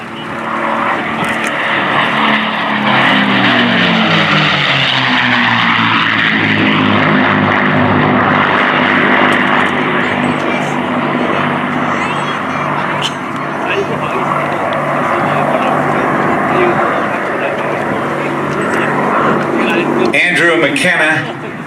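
A P-51 Mustang with a Merlin engine roars past at an air show, its loud propeller drone rising and shifting in pitch as it passes, with a commentator talking over it throughout.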